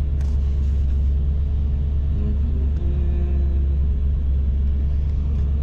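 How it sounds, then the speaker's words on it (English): A small car passes on the road beneath a constant low engine rumble and road noise, steady and close throughout with no voices. "There's a little car."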